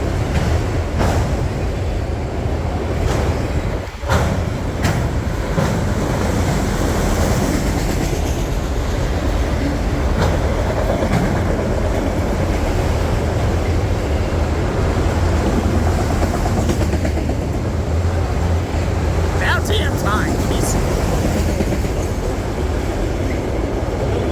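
An empty freight train of autorack cars rolls steadily past at close range, loud continuous wheel rumble and rhythmic clickety-clack on the rails, with brief squeals near the end.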